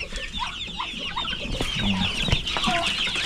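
Hens cluck repeatedly in a backyard chicken coop, short busy calls overlapping close by with scattered rustling and a few faint human sounds.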